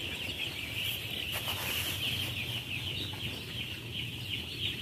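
Young broiler chicks in a closed house chirp and cluck as a dense, continuous high-pitched chorus over a low background hum, with no one speaking.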